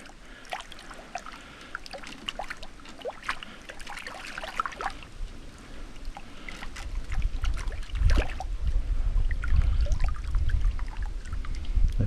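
Water splashing and trickling through a sieve as roots and gravel are rinsed while gold panning, with soft irregular sloshing early and heavier, louder gushing and pouring in the second half.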